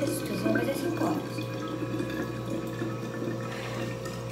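Cold water runs steadily into a container in a home kitchen, a continuous pouring and splashing sound over a low constant hum, with no clear pause throughout.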